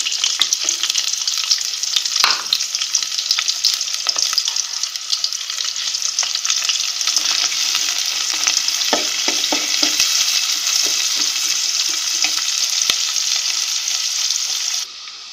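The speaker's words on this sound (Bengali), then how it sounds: "তো তেল গরম হয়ে গেছে, এখানে আমি পেঁয়াজ কুচি এবং রসুন কুচি এগুলো অ্যাড করে দিব।" Chopped onion and garlic hitting hot oil, a loud, bright, continuous sizzle with scraping stir strokes throughout, close and alone, ending abruptly near the finish.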